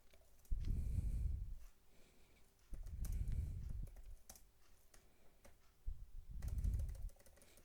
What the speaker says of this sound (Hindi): कुछ भी पासवर्ड लिख रहा हूँ